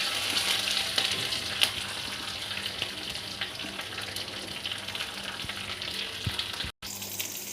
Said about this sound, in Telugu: వేగాక పచ్చిమిర్చి వేసుకోవాలి. దీంట్లో కొంచెం కరివేపాకు వేసుకోవాలి.